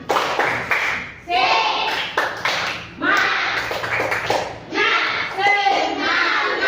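Schoolchildren in a primary classroom perform a rhythmic spirit clap, sharp claps grouped in patterned bursts with brief pauses between, mixed with children's voices chanting along.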